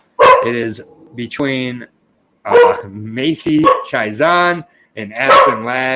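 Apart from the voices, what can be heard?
dog barking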